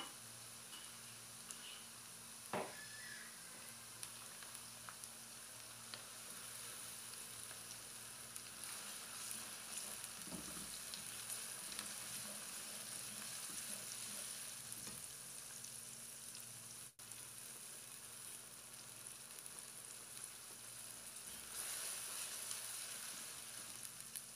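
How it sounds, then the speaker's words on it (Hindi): Soft, steady sizzling of onions frying in a pan, quiet and continuous, with an occasional stir or clink. "3 से 4 मिनट प्याज को फ्राई कर लिया है।"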